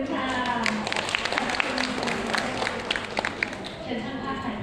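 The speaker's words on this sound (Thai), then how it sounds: "ขอเสียงปรบมือกับคุณที่พวันอีกสักครั้งหนึ่งค่ะ" Guests at a Thai wedding ceremony, during the khan maak procession and betrothal rites, give a steady round of close hand clapping that lasts throughout, with voices murmuring underneath.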